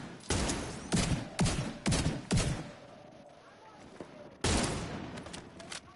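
Sniper turret gunfire in The Division 2 on PS5: a series of loud, sharp, spaced shots with reverberant tails, about six in all, the last after a short pause.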